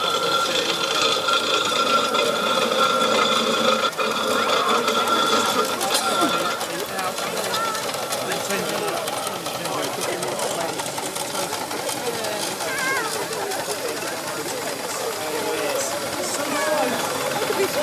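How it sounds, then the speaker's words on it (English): An 1898 Wallace and Stevens steam traction engine with very loud gears, moving at an Aberdeenshire steam fair, gives a continuous rhythmic mechanical clatter and chuffing that stays loud and near, with crowd noise mixed in. "we've got the Wallace and Stevens traction engine heading round"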